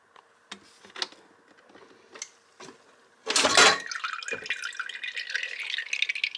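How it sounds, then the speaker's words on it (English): A few faint scattered drips, then a sudden wet splash of buttermilk from a butter churn followed by steady spattering and trickling liquid up close. "Buttermilk splashing out,"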